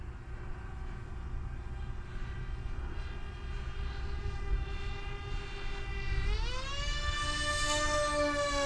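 A radio-controlled airplane flying with new two-blade propellers gives a continuous whining motor drone that rises sharply in pitch toward the end, loud and steady, with no voices.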